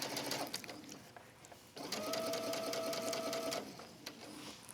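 Sewing machine stitching backward on a wrap dress, a steady close mechanical whir with a humming tone running for about two seconds, framed by quieter handling noise.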